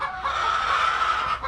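Chickens on a small farm cluck and vocalize together in a dense, steady, fairly close chorus with no pauses.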